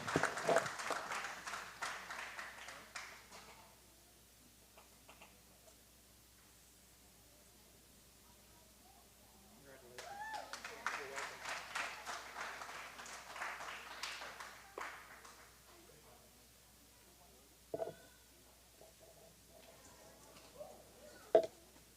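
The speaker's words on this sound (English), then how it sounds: "everybody behind the scenes a round of applause" An audience at a local livestock show gives a round of applause, steady clapping for a few seconds that fades, then a second burst of clapping later, with scattered thumps and noise between.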